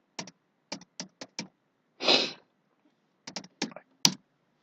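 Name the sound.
typing a search on a computer keyboard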